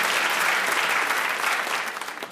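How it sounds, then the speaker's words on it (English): A steady round of applause from a crowd, dense and continuous, holding strong for a couple of seconds before tapering slightly. "Ed gets a round of applause."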